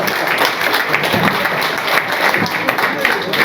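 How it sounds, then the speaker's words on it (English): Wedding guests applaud at a spring reception, with a crowd of dense clapping building to a steady wash of sound while voices carry faintly underneath. "Let's accept rapturous applause."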